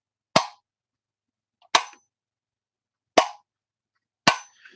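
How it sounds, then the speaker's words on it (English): Four crisp, solid clicks from a well-made lamp switch, each sharp and isolated, spaced roughly a second or more apart, close and clean with silence between. "And then just a nice switch."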